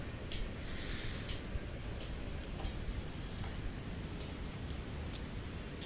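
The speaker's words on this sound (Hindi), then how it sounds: "बारिश हो रही है" Steady rain falls in a dense, even hiss, with occasional sharper drops pattering close by and no voices.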